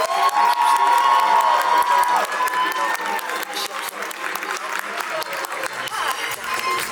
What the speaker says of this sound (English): All of our dancers, give them a big round of applause.